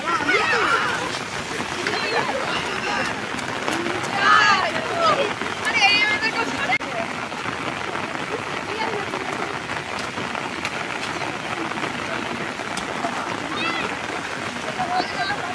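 Steady rain patters down on an outdoor volleyball court in India where water is pooling, a dense continuous hiss of drops with voices now and then underneath.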